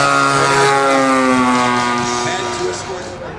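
A P-47 Razorback propeller aircraft on final approach, its engine a steady harmonic drone that gradually softens as it descends, heard under someone talking.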